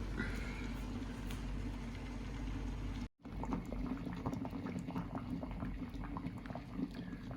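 Scallops in butter sauce bubble in an electric wok during a seafood dinner in Hua Hin, Thailand. The steady, close simmering and popping continues almost without a break, with only a momentary dropout partway through.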